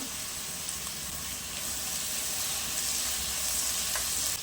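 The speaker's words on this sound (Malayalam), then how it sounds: "എണ്ണ ചൂടായി വന്നിട്ടുണ്ട് ഇതിലേക്ക് മുറിച്ച് വെച്ചിരിക്കുന്ന സവാള ചേർത്ത് കൊടുക്കാം" Sliced onion with green chilli and curry leaves frying in hot oil, a continuous dense sizzle, close and steady throughout with no talk.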